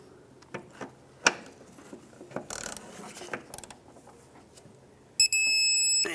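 A torque wrench tightening the rear shock bolts to 18 foot-pounds on a 2012-2020 Ford Focus, with scattered close metallic ratcheting and clanks that end in a sharp, sustained high-pitched click-out tone, and no talking.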